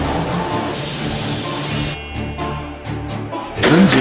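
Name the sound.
spray-cleaning oil grime from Mercedes S350 undercarriage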